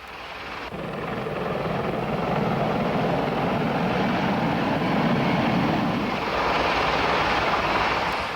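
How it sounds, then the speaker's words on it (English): A Sikorsky CH-53 Sea Stallion flies with a Boeing CH-46 Sea Knight under Cobra escort, giving a loud, sustained rotor roar with a deep low rumble that swells and holds steady, overlaid by wind noise. "Here again is the Sea Stallion operating with the Boeing CH-46 Sea Knight, escorted by Cobras."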